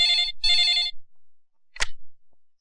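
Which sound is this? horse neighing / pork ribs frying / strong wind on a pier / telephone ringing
telephone ringing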